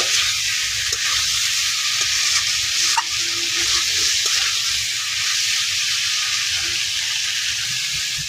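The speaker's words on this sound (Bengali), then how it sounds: "তো ওদিকে আমি কলা আর আলুটি ভালো দিয়ে কষাই নিতেছি" Plantain and potato pieces sautéing in a pan, a steady bright sizzle with occasional stirring scrapes and clinks, close and continuous throughout.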